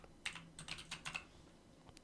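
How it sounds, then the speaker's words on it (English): Fingers type on a computer keyboard in a steady burst of close, crisp key clicks, with a short pause before a few final taps; no one speaks. "In here I am going to be typing, let's just say, build a calculator."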